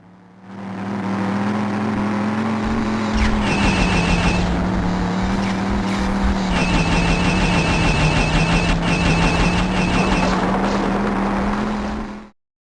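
Engine whir of a vehicle driven in the 1990s first-person shooter Future Shock, a loud, continuous motor drone that rises and falls slightly in pitch with speed, accompanied by steady game sound effects and periodic electronic beeps.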